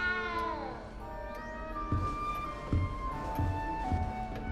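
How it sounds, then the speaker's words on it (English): A little cat in Hogwarts Legacy gives a rising, drawn-out meow followed by softer mews, set against quiet game music and a few low footstep-like thumps. "You don't need to be frightened, little cat."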